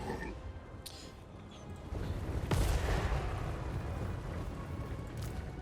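Gunfire and artillery volleys from units shooting at spearmen in the Total War: Warhammer battle game, heard as a steady rumbling din of distant shots with a sharper burst midway.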